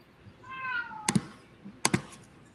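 A house cat meows for attention, one drawn-out close meow followed by two pairs of sharp key taps, with no one speaking.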